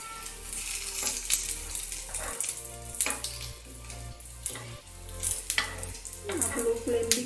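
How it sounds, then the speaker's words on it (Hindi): Aloo bhakarwadi potato pinwheels with sesame seeds shallow-frying in a pan over medium flame, a steady close sizzle of hot oil with a few crackling pops, over a low background drone. "ये बड़ी दोनों साइड गोल्डन होने तक इसे फ्राई कीजिए।"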